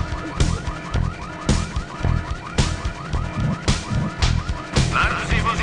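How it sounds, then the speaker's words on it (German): An alarm blares in the adventure game Full Throttle, a loud wailing car-alarm-style siren cycling through rising and falling sweeps in a fast repeating pattern, filling the whole stretch with no talk. "Wer hat dann den Alarm ausgelöst, Leute?"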